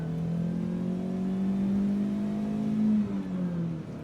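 A Wagon Queen Family Truckster station wagon engine hums steadily close by, its pitch climbing slowly as it revs, then dipping near the end.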